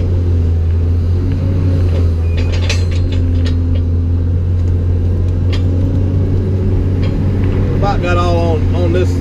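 A long reach Cat excavator moving mud and loading a truck: a loud, steady diesel drone with low rumble and scattered metallic clanks, a voice briefly audible near the end.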